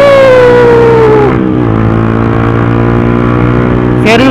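A Yamaha R15 motorcycle fitted with a custom Termignoni racing exhaust revs up close and loud, its pitch sliding down as the throttle eases, settling into a steady idle before a quick blip of the throttle at the end.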